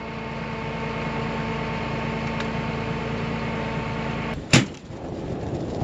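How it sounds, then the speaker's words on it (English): A farm tractor engine runs during spring planting with a steady humming drone, constant and fairly close, interrupted near the end by one sharp clunk. "Okay, that tractor needs fuel."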